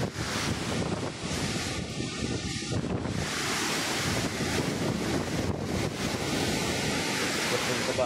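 Sea waves and gusting wind near a damaged seaside house, a constant loud roar of surf mixed with buffeting wind on the microphone, with brief dips in intensity.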